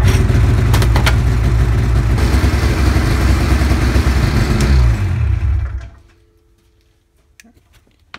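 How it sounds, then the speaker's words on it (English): A snowmobile engine runs with a little throttle while heated hand warmers are tested, a loud close rumble with a rhythmic ticking beat that winds down and cuts out after about five seconds, leaving near silence. "we're gonna start the sled and we'll give it a little throttle to get it up to 12 volts"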